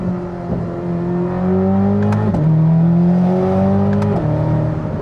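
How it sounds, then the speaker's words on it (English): A Corvette ZR1 V8 with a dual-clutch gearbox, heard from inside the cabin with the top up, accelerating hard: a loud, continuous engine drone rising in pitch, then dropping sharply at quick gear shifts, twice. "you can hear the V8 a little bit better even with the top up"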